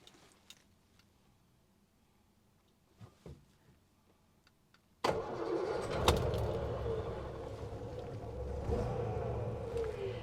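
Wolseley 6/99, a 1950s British classic car, starts after a few quiet clicks: the engine catches abruptly and settles into a steady, close, rumbling idle that continues to the end.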